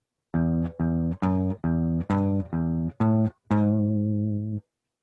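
A sequence of eight low single guitar notes on the sixth string, plucked one after another with short gaps, the last note ringing out longer.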